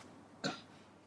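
A single short cough bursts out once against a quiet room, then fades quickly back to near silence.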